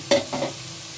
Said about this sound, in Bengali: এখন সাজনা আর ডাল দিয়ে দিচ্ছি।